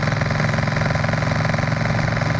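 A small engine runs steadily at about three-eighths throttle, a loud, even, mid-pitched drone with a fast regular pulse that holds constant throughout, with no talking.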